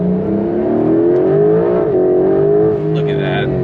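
A 2025 Porsche 911 Carrera GTS accelerates hard, its engine note climbing steadily in pitch and holding loud and close throughout, heard continuously from inside the car.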